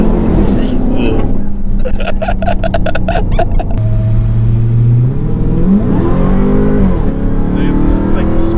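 A Ram SRT-10 pickup truck accelerates hard with a loud, close engine roar that climbs in pitch through rapid revving, then shifts and builds again, with a person's voice heard over it.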